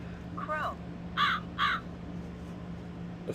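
Crow caws from a push-button animal sound toy: a short electronic caw followed by two louder, closely spaced caws over a steady low hum.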